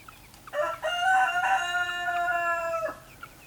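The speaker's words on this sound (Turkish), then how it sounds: "Yan komşunun horozu ötüyor." A single rooster crows once, a long clear cock-a-doodle-doo rising and holding, fairly close against a quiet background.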